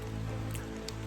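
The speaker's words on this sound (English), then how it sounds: "it is raining" Rain falls steadily on a forest hiking trail, a soft continuous patter of drops on leaves and ground, with a low background hum and no talking.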